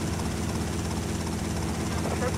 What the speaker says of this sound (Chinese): 直升机